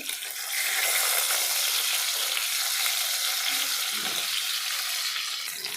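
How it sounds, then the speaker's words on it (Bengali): Pieces of katla fish frying in hot oil give off a loud, continuous, close-up sizzle that holds steady throughout. "মাছগুলো আমার ভালো করে ভাজতে হবে।"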